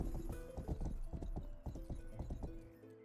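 Horse hooves galloping in the video game Rustler, a rapid, uneven clatter of hoof beats, close and fairly loud, with no talking.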